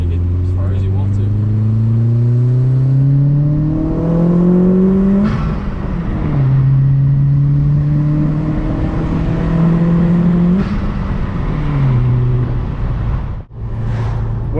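A tuned Stage 3 Audi A4 Quattro of about 450 horsepower pulls hard in second gear, its engine note climbing steadily through repeated upshifts, loud and close from inside the cabin.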